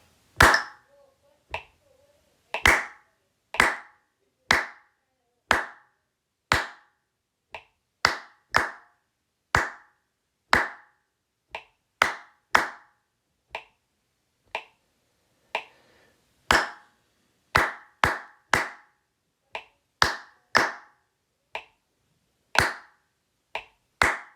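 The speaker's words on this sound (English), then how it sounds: "Let's clap 17 through 24. Clap it only." Hands clap a rhythm chart, measures 17 through 24, as a run of about thirty sharp, close claps in an uneven counted pattern. Gaps of varying length separate the claps, and nobody speaks.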